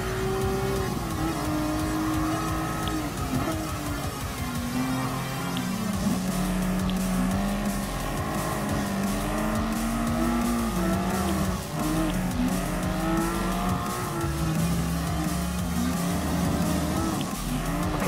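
Porsche 911 GT3 race cars roar through a Gran Turismo Sport race, a steady, loud engine drone with rising and falling pitch sweeps as gears shift, continuous for the whole stretch with no talk.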